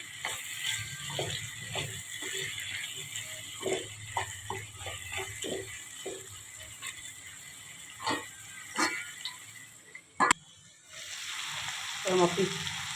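Mutton with coriander and spices in a pan, sizzling and frying as a spoon stirs it in a run of scraping, clicking strokes, then a brief clatter and a burst of louder sizzle, close up.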